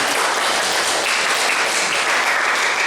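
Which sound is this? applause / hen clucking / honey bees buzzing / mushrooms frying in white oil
applause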